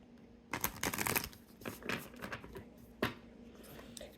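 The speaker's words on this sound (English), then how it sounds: "We'll shuffle them up." Soft riffling and slapping of tarot cards being shuffled close by, a few bursts of crisp flutter with quiet pauses between.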